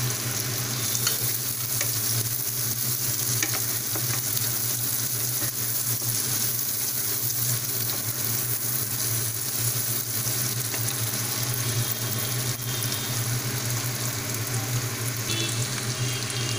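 Crushed ginger and garlic frying in hot oil while a fish malai curry is cooked, a continuous close sizzle and crackle with stirring throughout.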